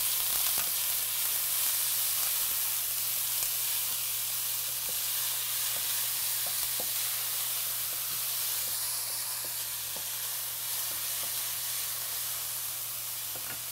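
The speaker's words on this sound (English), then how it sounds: "I'm going to sweat these onions down for just like a minute or two" Onions sweating down in a hot pan ahead of green pepper and garlic for a Cuban dish, giving a steady, close sizzle with faint pops and crackles throughout, no talking over it.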